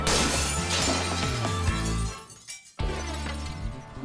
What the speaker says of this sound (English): They're going to start by throwing glass at tornado speeds.